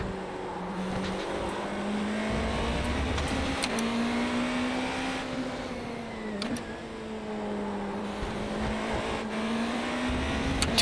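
A Porsche 963 GTP race car in iRacing at Road America, its engine holding a steady droning tone that shifts slightly in pitch through gear changes and corners, loud and continuous with brief clicks on top.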